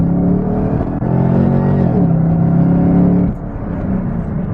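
A 2013 Chevrolet Camaro ZL1 roars loudly under hard acceleration, its engine drone climbing in pitch through a gear change then dropping at the next shift, heard from inside the car.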